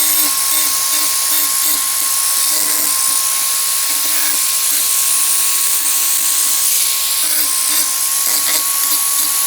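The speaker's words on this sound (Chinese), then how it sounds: "铁的围栏的 railing 上面钻4个孔" Drilling holes into an iron fence railing for a garden gate, a steady high-pitched whine running continuously and loud, with short pulsing bursts as the bit works through the metal.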